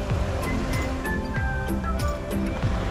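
Ocean waves wash and break along a shoreline, a steady rolling surf with repeated swells at close range, heard alone without talk.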